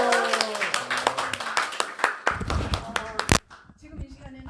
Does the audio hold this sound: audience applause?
yes